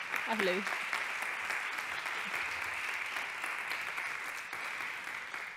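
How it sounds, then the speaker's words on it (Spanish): Conference audience applause welcomes a speaker to a talk on climate change in Spain, a continuous, even wash of many hands clapping. A brief voice cuts in at the start, and the applause holds steady, slowly tapering. "Un aplauso para ella."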